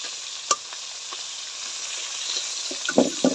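Pabda fish fry in a pan of hot oil, giving a steady bright sizzle throughout, with a few light knocks and clinks of a spatula toward the end.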